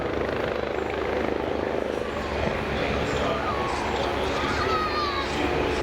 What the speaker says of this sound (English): We've got helicopters coming in.